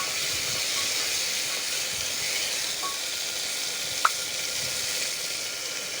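Chopped onion and tomato frying in a pan, with a steady close sizzle and soft stirring scrapes, plus a single sharp utensil clink partway through.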